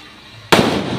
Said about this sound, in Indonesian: Masih banyak ini merconnya ya.